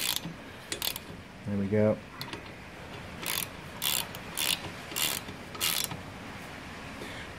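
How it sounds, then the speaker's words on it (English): A hand ratchet runs down the crank main bearing bolts on a Toyota RAV4 engine, its pawl making repeated close clicking in short strokes, with a brief spoken remark partway through. "with a normal ratchet for now, because we're going to be nowhere near the torque setting. Bringing it down nice and evenly."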